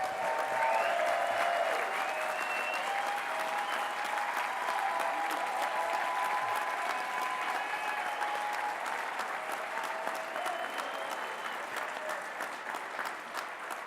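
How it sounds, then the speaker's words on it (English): An audience at a California teachers' state council meeting gives a round of applause for union member Erica Jones, steady dense clapping with some tonal voices or cheers over it, gradually tapering toward the end. "So we need to give her another round of applause."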